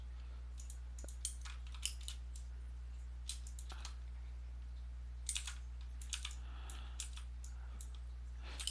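Quiet, rapid keystrokes on a worn-out computer keyboard come in uneven bursts of light clicks with short pauses between them, close by and under a constant low electrical hum.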